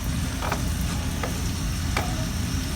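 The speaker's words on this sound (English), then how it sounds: "I just allow it to just warm up a bit, then add my onions." Onions go into warm red palm oil for egusi soup and fry with a steady, close crackling sizzle, broken by a few brief stirring clicks.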